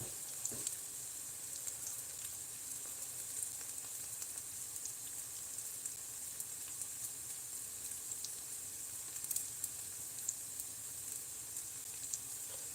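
Onions frying in a pan for an egg-and-onion dish in a home kitchen: a steady, close sizzle with fine crackling pops throughout, no talking.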